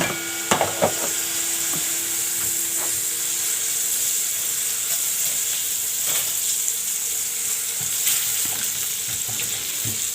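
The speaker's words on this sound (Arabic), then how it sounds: "الزبدة بس تسيح" Butter and a little oil melting and sizzling in a pot on the stove for rice with vermicelli, a steady hissing fry with occasional light clinks and taps, no voices.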